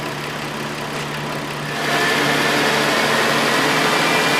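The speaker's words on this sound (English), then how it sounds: "Now let's bump the idle up." Car engine at full electrical load with headlights, rear defogger and blower running, idle raised to about 1500 RPM; a steady hum swells and holds at a higher, busier pitch partway through, close and continuous with no talk.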